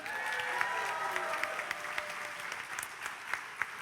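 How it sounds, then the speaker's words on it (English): Graduation audience applauding steadily for a graduate who could not attend, a dense wash of many hands clapping at moderate volume with a few sharper claps poking through, steady from start to finish. "let's give a round of applause for Rachel Bean."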